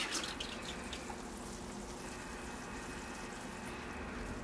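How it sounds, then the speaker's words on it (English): A freshly root-pruned bonsai seedling is watered after repotting, a steady, even hiss of spraying and trickling water running close and moderately loud throughout, with no voices. "And I'll give it a water."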